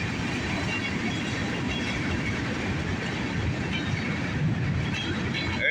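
A northbound manifest freight train rolls past on the tracks with a continuous loud rumble and clatter of railcars. Faint talk sits under it.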